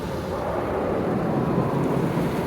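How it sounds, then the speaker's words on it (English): Rinse jets at an Epping car wash spraying water over a car, heard from inside as a dense, constant, loud rushing roar with no breaks. "No, it's rinsing it too much"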